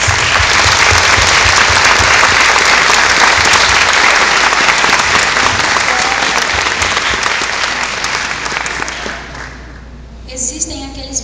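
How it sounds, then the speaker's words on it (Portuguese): A graduation audience gives a long, loud, dense round of applause for the teachers, a roaring wash of many hands clapping that slowly thins and fades near the end, where faint voices come through. "Por favor, gente, um aplauso para os nossos queridos professores."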